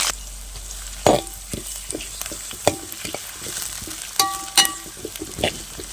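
Ginger and garlic fry in a pan for Kerala-style mango pickle, a close steady sizzle broken by sharp scraping stirs and clinks of a spoon against the pan, with no talking.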